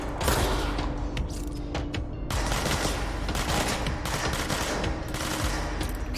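Rapid automatic gunfire in the video game Control, a dense sustained burst of loud shots with brief breaks, continuing almost without pause throughout.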